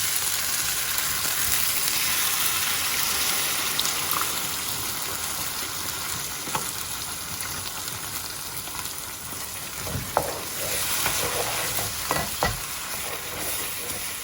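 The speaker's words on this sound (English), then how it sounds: "And then we add 200 grams of passata." Passata simmering and bubbling in a pan of chicken kofta curry, a steady broadband sizzle throughout with occasional sharper pops and stirring scrapes near the end.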